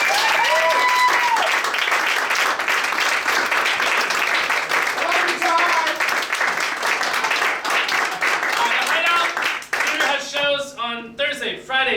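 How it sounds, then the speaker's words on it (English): A theater audience at an improv comedy show at the Hideout Theater applauds loudly and steadily, dense clapping filling most of the stretch before thinning out, with a host speaking near the end. "a big round of applause."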